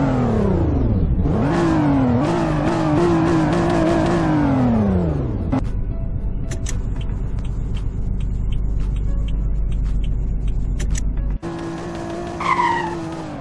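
A video game car engine revs hard, pitch sweeping up and down through gear changes, then settles into a steady high whine with faint tire noise before a brief rev.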